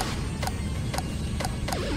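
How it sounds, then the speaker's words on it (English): Pinball-like bumper pings in a video game, four short bright metallic clicks spaced about half a second apart over a steady low background hum. "I love how you're literally making pinball sounds"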